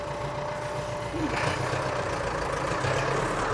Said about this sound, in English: It's hydraulically driven by the tractor.